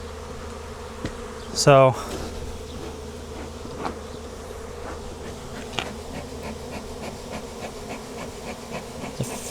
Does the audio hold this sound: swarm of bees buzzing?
yes